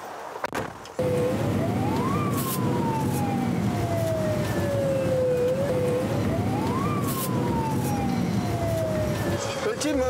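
A Korean fire engine siren wails as the crew responds to a dispatch call, loud and close, its rising and falling sweep repeating over a steady rumbling vehicle engine after a brief rustle at the start.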